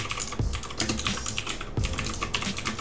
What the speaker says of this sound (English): then you would go and type in your directory to it